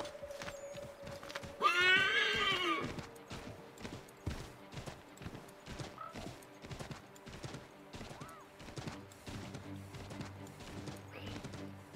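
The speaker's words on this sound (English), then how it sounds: "Take my horse!" A horse in Assassin's Creed III Remastered gives one loud, close neigh, followed by a steady clip-clop of hooves that keeps a regular rhythm to the end.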